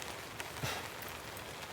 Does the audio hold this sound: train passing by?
no